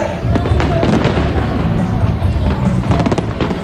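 A fireworks display bursts over Manila Bay at the opening of the Philippine International Pyro Musical Competition: dense, overlapping booms and crackles, loud and continuous, with crowd noise underneath.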